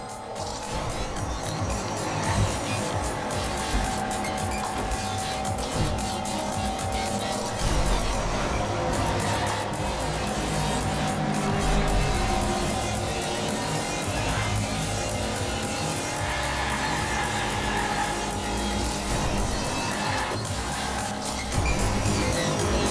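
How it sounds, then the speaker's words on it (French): Toy cars racing on a track in the Hot Wheels Unleashed video game, a dense continuous roar of engines with tire squeals and skids running throughout at a steady loud level. "tu as envie de dépasser la DeLorean de Retour vers le futur"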